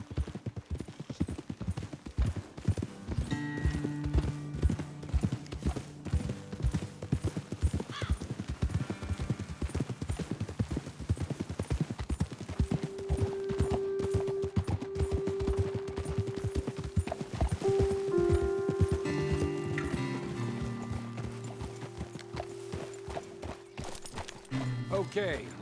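Horses ride along in Red Dead Redemption 2, their hooves clip-clopping steadily for the whole stretch with an occasional neigh, while a musical score swells underneath.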